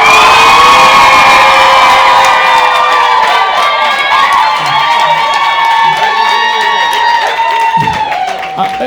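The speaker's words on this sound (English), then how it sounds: "let me hear a shout and an applause from the rest of you guys" A studio audience at a debate show cheers, whoops and applauds loudly and continuously, with children's shouts and voices mixed into the sustained roar, fading slightly near the end.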